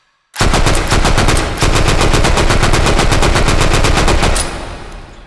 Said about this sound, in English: So with this gun, we just pull the trigger and we'll slam forward and fire.